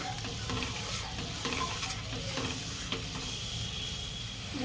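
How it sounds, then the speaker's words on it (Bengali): Spice paste with milk and ground cumin being stir-fried in a pan for a vegetarian potato and pointed gourd curry, giving a steady close sizzle with scraping stirs throughout and no talk. "কিছুটা দুধ দিয়ে দেবো দিয়ে ভালো করে একটু মশলাটা কষাবো"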